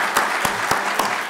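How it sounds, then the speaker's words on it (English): Audience applause at a Caltrans District 4 Black History Month celebration, a brief steady patter of many hands with a few sharper claps standing out, fairly close and without talk. "let's just give everyone a round of applause for what they've been doing all month"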